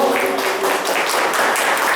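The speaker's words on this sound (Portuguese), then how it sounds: "Pode aplaudir o Senhor." A church congregation applauds together, a steady wash of many hands clapping that fills the whole moment without pause, with a faint voice or tone lingering underneath at the start.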